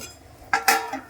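A lid goes onto a pot of simmering katla fish curry with fried fish pieces: two quick, bright metallic clanks close by, the second slightly louder and ringing briefly, against a quiet background.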